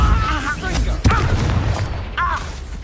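A Depulso spell cast in Hogwarts Legacy, a single punchy boom-like blast near the middle over a busy battle rumble, with a character's voice shouting around it.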